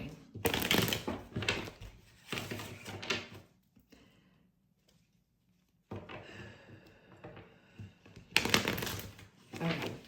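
Bursts of tarot cards being shuffled, riffling in several quick, close rounds separated by a quiet pause, with faint rustling between.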